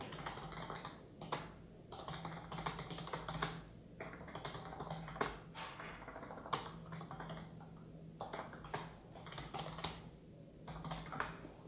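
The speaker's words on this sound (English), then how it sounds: "try starting to typing a message now to show you the keyboard in action" Steady, rapid clatter of keys on a USB keyboard connected to an Asus Zenfone 2 phone, typed in bursts with brief pauses, close and fairly crisp, with no voices.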